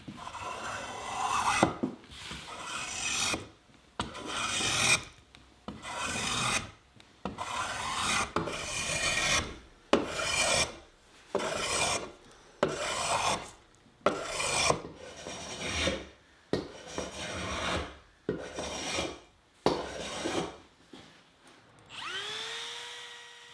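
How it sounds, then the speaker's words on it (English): Hand-shaping a white oak dining table leg with a rasp, producing a long series of rhythmic, close scraping strokes separated by short pauses, each stroke a coarse rasping rub. "Now when I shape the leg, I'll use these guidelines as a reference point."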